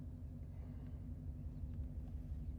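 A truck's engine idles at low level with a steady, faint low rumble and a soft rhythmic throb, heard alone.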